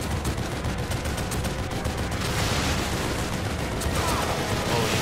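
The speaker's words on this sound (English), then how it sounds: "Now it's your turn to get chopped up by this machine gun" Dense, continuous automatic gunfire from a machine gun in The Evil Within, loud and sustained throughout with crackling bursts and a faint voice underneath.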